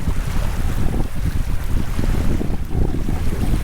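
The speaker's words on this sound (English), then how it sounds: "Can you even hear me with this wind?" Strong morning wind on the Beartooth Highway buffeting the microphone, a loud rumbling roar of gusts that thumps and surges continuously without a break.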